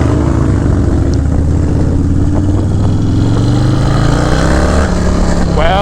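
A Harley-Davidson Softail Low Rider S motorcycle rides at steady speed with no fairing, its loud continuous engine drone holding close and constant along with steady wind rush, briefly shifting in pitch near the end.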